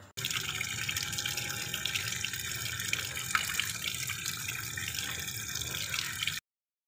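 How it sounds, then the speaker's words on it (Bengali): Steady running tap water pouring as raw chicken is washed in a sink, continuous and close for several seconds before stopping abruptly. "মাসি তো চলে গেছে বাসন মাজা, আর এখন আমি চিকেনটা ধুয়ে নিচ্ছি ভালো করে।"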